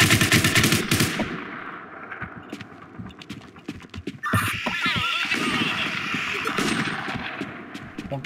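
Rapid automatic gunfire and shots from the online shooter War Inc Battle Zone, dense bursts at the start and again midway, loud and close, with other game sounds mixed in.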